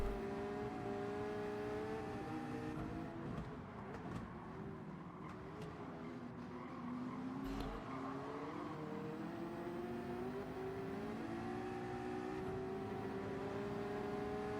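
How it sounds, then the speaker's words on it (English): A Porsche 911 race car in a racing game sweeps past in an endurance race at Daytona, its engine note rising and falling as it closes in and pulls away over other engines. "911 flies past me."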